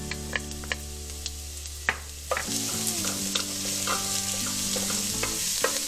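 Garlic cloves fry in about a quarter cup of hot oil for fish escabeche sauce, a close sizzle with sharp clicks and scrapes from stirring and a low tonal hum running underneath.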